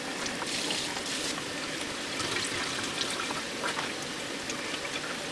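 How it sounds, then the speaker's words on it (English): Water runs steadily from a tap, splashing and trickling over food held in a sieve as it is rinsed, a continuous pouring sound with no talk. "dump it into a sieve, and then we're going to rinse it"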